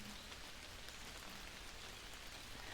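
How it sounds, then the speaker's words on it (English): Rain falls steadily in a windy meadow, a dense, even hiss of drops on surfaces that stays constant and fairly faint throughout, with no voices. "I'm just enjoying the rain"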